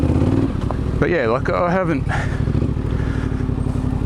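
A Yamaha T7 motorcycle engine drones steadily at close range while it picks its way along a tight single-track trail, with someone talking briefly over the running bike.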